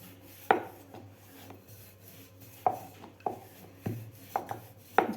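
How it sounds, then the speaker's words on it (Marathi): Broccoli paratha dough being rolled out with a rolling pin, soft close thuds and rubbing strokes on a board, a handful of irregular knocks separated by short pauses. "हलक्या हाताने आपल्याला पराठा लाटायचा आहे."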